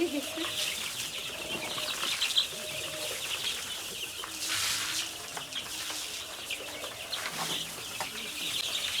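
Young Egyptian Fayoumi chickens bustle on a small farm, with repeated bursts of wing flapping and scuffling mixed with soft clucks and bird calls, fairly close and busy throughout.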